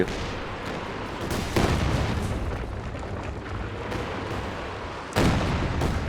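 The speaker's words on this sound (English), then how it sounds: "Kadusha barrage coming in again." A Katyusha rocket barrage pounds the ground in Company of Heroes 2, a dense, continuous rumble of explosions with heavier bursts about every few seconds.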